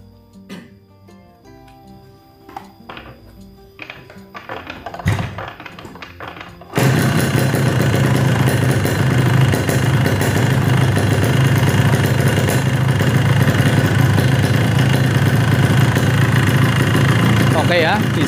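A Yamaha RX King motorcycle is kicked over with a few clanks and knocks, then the engine fires and settles into a loud, steady, rattling two-stroke idle.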